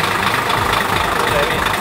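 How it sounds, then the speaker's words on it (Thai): An engine idles with a steady low rumble throughout, running to power a hydraulic system, close and fairly loud, with a voice speaking over it. "ต้องสตาร์ทเครื่องยนต์เพื่อเปิดระบบไฮดรอลิก"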